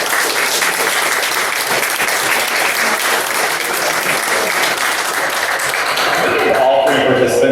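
At a club meeting, an audience gives loud, sustained applause for the participants, with thick continuous clapping throughout and some voices mixed in near the end.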